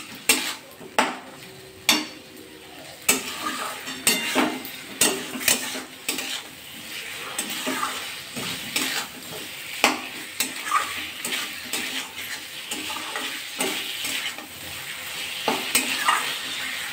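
Cabbage and shrimp sautéed in a pan, with repeated sharp clacks of a utensil against the pan over a soft, steady sizzle. The scraping strokes come in an uneven rhythm and stay close and fairly quiet.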